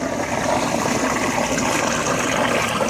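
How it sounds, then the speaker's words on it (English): Floodwater on Île Mercier in Île-Bizard rushes powerfully up against a bridge, filling the air with a steady, loud broadband roar that stays even and continuous throughout. "You can hear the power of that water."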